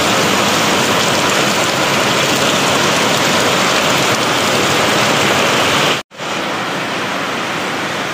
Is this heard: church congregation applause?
no